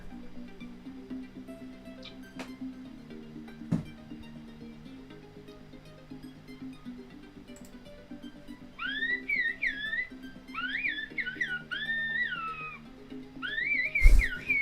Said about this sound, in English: whistling sound you just heard is a language that's thousands of years old.